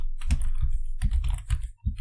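Computer keyboard typing during a live JavaScript coding session, with a steady run of close, crisp key clicks in uneven bursts and no voices.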